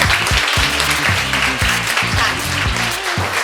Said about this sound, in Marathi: तेव्हा जोरदार टाळ्या तुम्ही तुमच्यासाठी वाजवायच्या आहेत.